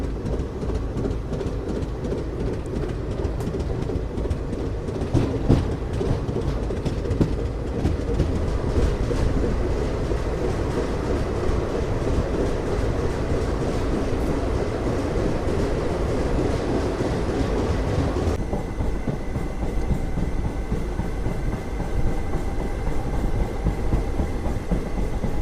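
Seven Hills SF Express near Tirupati rolling along the rails: a loud, continuous rumble with rhythmic clickety-clack of the wheels and a dense, roaring interior wash that shifts in tone partway through.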